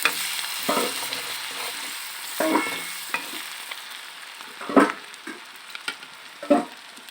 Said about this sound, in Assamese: আদা নহৰু গোন্ধ যোৱালৈকে অকণমান দেৰি মই এনেদৰে ফ্ৰাই কৰি থাকিম